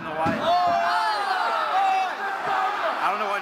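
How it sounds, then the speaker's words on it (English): A crowd cheering and chanting at an Ebbsfleet soccer match after a goal, loud sustained voices with sung, wavering pitch and a few sharp claps or thuds at close range. "We're cheering for Ebbsfleet, the red and the white."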